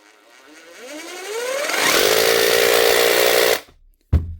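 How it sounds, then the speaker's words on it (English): An old Bosch 36 volt SDS drill, repaired with a new switch, winds up from a slow start to a loud, steady whine that holds for a couple of seconds, then cuts off, followed by a short thump. "An old Bosch 36 volt SDS drill with a new switch."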